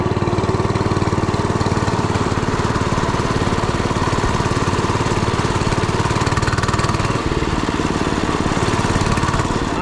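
Small motorbike engine ridden fast on a little bike, a steady loud buzzing drone held throughout at high revs, close and continuous with wind-like roar and no talk over it.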